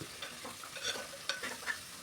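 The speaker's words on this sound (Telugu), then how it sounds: "మనం దీన్నంతా ఒకసారి కలుపుకోవాలి" A spoon stirs and scrapes chunky pumpkin pieces in a pan of tempering with salt and turmeric, with a soft sizzle underneath and a few brief clinks, quiet and close.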